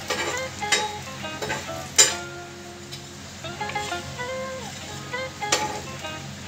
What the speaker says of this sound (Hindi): दूसरे साइड में भी आधा चम्मच घी डाल दिया और इसको हल्का गुलाबी होने तक तलती रहूँगी सेकती रहूंगी